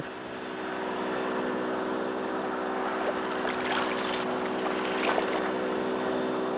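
An outboard motor drives a boat on open water during a crocodile capture, giving a steady, loud engine drone with a constant pitch that holds throughout, with faint splashy wash rising briefly near the end.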